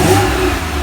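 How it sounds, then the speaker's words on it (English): A 2010 Porsche 911 Carrera 997 coupe engine revs up loud and close, a brief throaty rise in pitch that then settles back toward idle. "fire this thing up so you can hear the gurgling and burbling"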